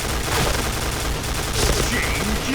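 Rapid K-3 gunfire in the Point Blank shooter game, a dense and steady burst of shots that fills the whole stretch at close range.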